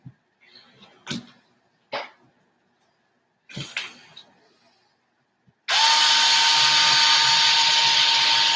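Scattered clinks and handling knocks of parts and tools, then a loud steady whir of a power drill removing screws from a toy car's front axle, running continuously to the end.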